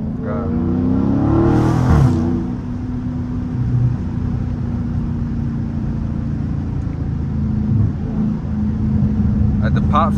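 Dodge Challenger or Charger Scat Pack V8 droning loudly under hard pulls on a late-night city drive, with steady engine roar from inside the car and a brief talking voice near the start.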